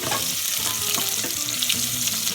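Chopped onion frying in hot oil in a pot, a steady close sizzle with faint stirring scrapes for a Spanish-style potato and chorizo vegan stew, no voices.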